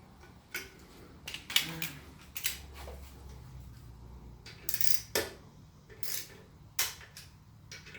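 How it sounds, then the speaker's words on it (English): Torque wrench set to 12 foot-pounds tightening bolts on an 800hp shortblock engine being assembled, giving several sharp metallic clicks and ticks spread across the stretch, fairly close and fairly quiet, with no talking. "Set my torque wrench to 12 foot-pounds."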